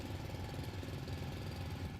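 Mechanical drilling in the factory-building video game Foundry, a steady low droning rumble with a slight rhythmic chug, continuous and fairly loud throughout, no speech.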